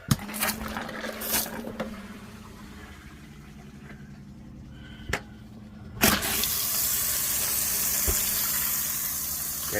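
Water running from a faucet in a camper van's water system during a leak test, a steady broadband rush starting abruptly and holding strong after a few scattered clunks and knocks.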